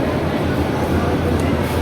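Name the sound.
train at the station after arrival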